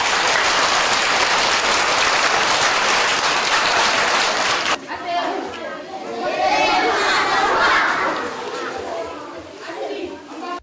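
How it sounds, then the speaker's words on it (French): Schoolchildren in a classroom clap loudly together for several seconds. The clapping stops abruptly, giving way to lively children's chatter and voices. "Applaudissez pour vous."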